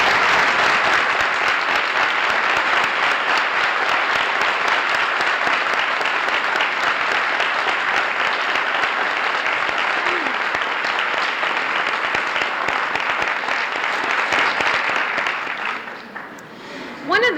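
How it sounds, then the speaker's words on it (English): Sustained applause from a civic awards ceremony audience for award recipients standing, steady dense clapping filling the room for about sixteen seconds before tapering off at the end. "let us give you a round of applause"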